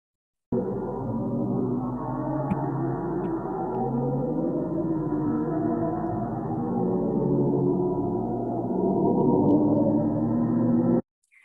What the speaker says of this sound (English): And this is the sound of a black hole.